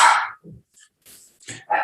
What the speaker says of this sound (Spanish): Ahí está mi perro de nuevo.